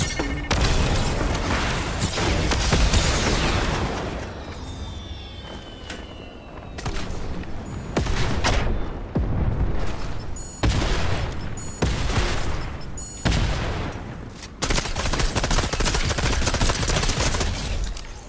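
Dense bursts of gunfire in Fortnite, rapid rattling volleys and sharp repeated shots coming in loud clusters with brief gaps between them, no speech.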